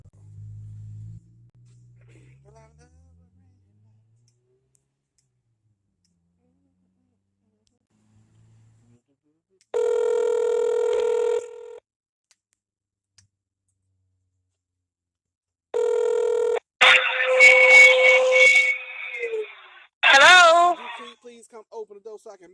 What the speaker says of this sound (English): Making a phone call.